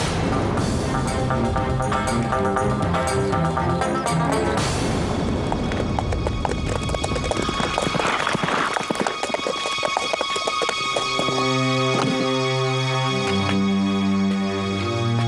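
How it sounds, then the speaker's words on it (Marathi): A horse's hooves clip-clop loudly in an Indian period drama scene, joined by a whinny, with music over the later part and no talk. "हा तर श्रीमंत साहेबांचा घोडा आहे"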